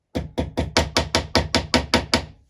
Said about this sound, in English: Actually tapped it with the little hammer